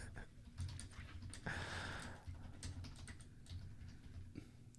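Steady typing on a computer keyboard, a quick run of soft close clicks and taps that continues throughout, with faint talk in the background.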